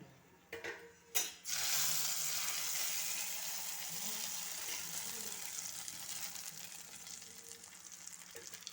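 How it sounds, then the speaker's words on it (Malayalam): Mustard seed tempering poured into pazham pulissery, a couple of sharp clunks followed by a loud sizzling rush that slowly settles into a steady fizz. "ഈ കടുക് താളിച്ചത് അങ്ങോട്ട് ഒഴിച്ചു കൊടുക്കാം"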